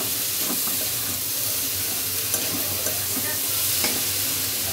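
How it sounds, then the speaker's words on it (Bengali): Vegetables and egg cook in a frying pan with dry spices for a Bengali pitha filling, under a steady close sizzle. Repeated scraping stirs punctuate it and no one speaks. "সবজিগুলো ডিমটার সাথে ভালো করে আমি নাড়াচাড়া দিয়ে দিতেছি"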